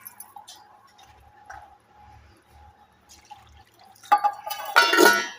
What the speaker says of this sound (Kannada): 3 ಗ್ಲಾಸ್ ನೀರು ಹಾಕ್ತಾಯಿದ್ದೀನಿ.